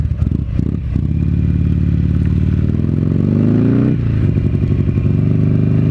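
A Buell XB9R Firebolt's fuel-injected, torquey V-twin runs loud and close with a steady, pulsing drone, revving and climbing in pitch before dropping sharply near the middle, then settling back into a throbbing rhythm, with no voices.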